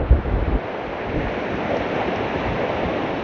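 Ocean waves break and wash steadily onto a beach in a continuous broadband roar, with gusty wind buffeting the microphone and a brief thump near the start.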